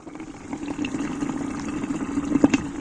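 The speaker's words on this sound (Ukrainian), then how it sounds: "Ось вам приклад, як гаситься вапно." Quicklime being slaked with water in a metal bucket while preparing Bordeaux mixture for the garden, giving a low continuous hiss and bubbling simmer with small pops that grow denser and louder near the end, with no talk.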